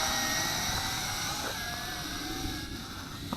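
A WLToys Q212G FPV drone hovers with its throttle raised, its small motors giving a steady, close, high-pitched whine and buzz throughout.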